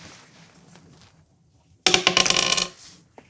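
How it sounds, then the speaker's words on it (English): Dice thrown onto a hard surface give a sudden loud clattering burst of rapid rattles lasting under a second, then settle into quiet, with a faint voice murmuring beforehand. "Roll the dice."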